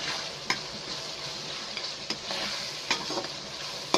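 Whole spices for chicken biryani masala, including nutmeg, mace, black pepper, star anise, cloves, bay leaf and green and black cardamom, frying with a continuous close sizzle and occasional sharp clicks and scrapes of stirring.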